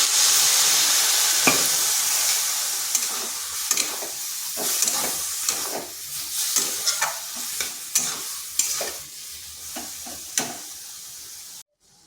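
Boiled potatoes stirred with spices in a pan for dim potol, a steady close sizzle broken by repeated scraping and clacking of a spatula against the pan, no voices.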